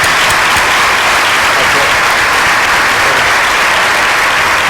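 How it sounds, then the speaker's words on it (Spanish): Sustained, loud applause from a university audience fills the room at an event honoring a Malvinas War survivor, dense and steady throughout without pause. "un aplauso grandísimo, emocionante."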